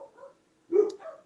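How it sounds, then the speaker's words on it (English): Dog barking in short, faint yips and one louder bark, a few brief calls from somewhat off to the side, with quiet gaps between them. "Hear the dogs?"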